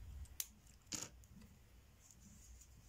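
A pair of scissors snipping crochet yarn, two quick, faint, close clicks about half a second apart, then quiet room tone, with no voices.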